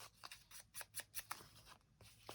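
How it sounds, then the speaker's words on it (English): Scissors snip through very old music paper in a series of about ten sharp, close cuts, uneven in rhythm, heard quietly with no talk. "So I'm being careful with the scissors"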